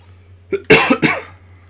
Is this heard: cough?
yes